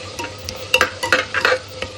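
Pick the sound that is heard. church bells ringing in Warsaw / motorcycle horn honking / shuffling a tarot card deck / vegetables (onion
vegetables (onion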